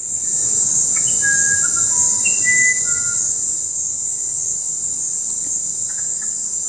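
Uirapuru bird singing in the Amazon forest: a few short, clear whistled notes rise and fall early on, nearly masked by a loud, steady chorus of crickets and insects that fills the whole scene.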